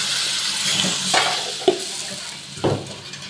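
Fish curry masala with papaya and potato is stirred and sautéed in a pan, a constant sizzle broken by a few soft scraping knocks of the spoon against the metal.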